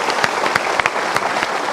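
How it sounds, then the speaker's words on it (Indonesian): A studio audience at a motivational talk show claps in a brief, dense burst of applause with no voices over it. "kita berikan tepuk tangan."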